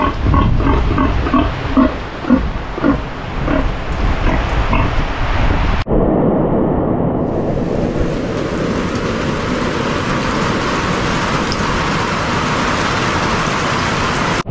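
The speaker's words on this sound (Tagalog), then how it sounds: "Kaya pasilip-silip lang tayo dito sa mga baboy" Farm pigs grunting and snorting in a rhythmic series over a noisy background of heavy typhoon rain, the animal sounds fading into a steady wash of rainfall.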